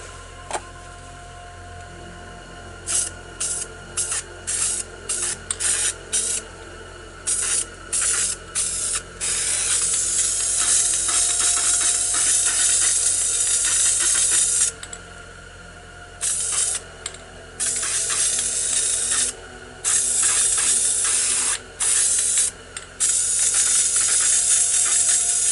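Repeated bursts of aerosol spray hissing, short puffs early on giving way to longer sustained sprays, close and loud with brief gaps between.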